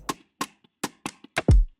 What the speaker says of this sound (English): He pulled up this percussion loop from Killer Tunes pack